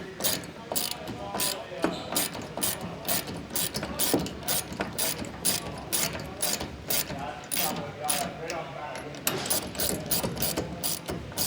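Rapid, steady clicking of a ratchet wrench snugging rack mounting fasteners against the bottom edge of a pickup truck bed during a PAK system install, close and continuous with brief pauses between strokes.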